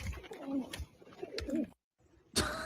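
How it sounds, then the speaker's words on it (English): A pigeon cooing in a short clip, soft throaty coos in bursts, then a brief gap and a louder noisy burst at the end, with a faint voice in the background. "Pigeon right at the end."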